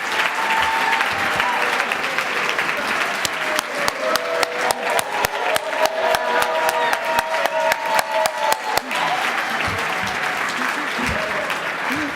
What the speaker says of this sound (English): could you all stand and let us give you a big round of applause?